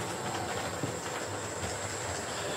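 A Hornby GWR Star class model express locomotive runs past on a model railway layout, giving a steady close whirring rumble with a faint rhythmic clatter of wheels on track.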